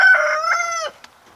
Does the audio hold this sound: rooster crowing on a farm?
yes